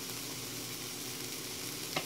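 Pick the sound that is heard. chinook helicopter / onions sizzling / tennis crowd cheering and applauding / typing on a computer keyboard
onions sizzling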